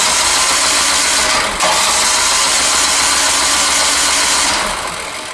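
A new snow blower's electric starter cranks its engine loudly and steadily, a continuous whirring drone that holds for several seconds, dips briefly, then fades slightly toward the end, with no talking.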